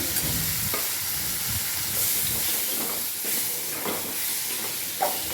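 Ivy gourd, already boiled, sautés in a pan with chilli powder, making a continuous hissing sizzle. Intermittent stirring scrapes and knocks recur every second or so, and no one speaks.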